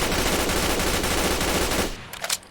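A PP-91 Kedr submachine gun fires a dense, continuous automatic burst in Fallout 4, loud and close for about two seconds before cutting off into a brief tail with a couple of fainter clicks.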